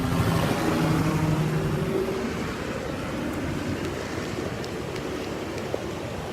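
Ocean surf washing onto a beach on a cloudy day before rain, a steady broad roar of breaking waves close by with no voices, a few faint clicks late on.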